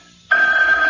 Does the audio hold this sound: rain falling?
no